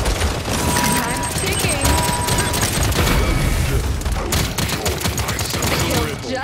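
Enemy gunfire in the shooter game Paladins, rapid loud bursts crackling almost continuously, with a brief voice speaking over the shots.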